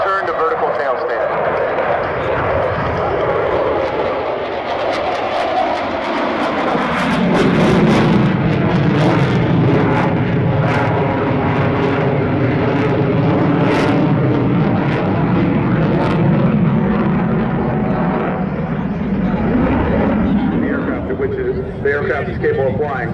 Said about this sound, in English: from the right, the Super Hornet